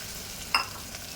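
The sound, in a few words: carrot frying in hot oil with chili and garlic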